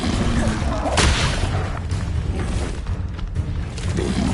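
Confringo blasting spell going off in Hogwarts Legacy, a heavy booming blast at the start followed by dense rumbling crackle and debris, loud and continuous throughout with faint voices mixed in.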